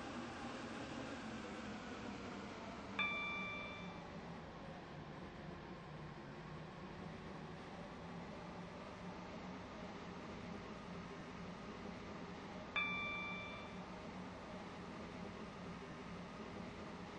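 A train runs in the Roblox game Stepford County Railway, a steady, quiet rolling rumble and hum with two brief high electronic chimes spaced several seconds apart.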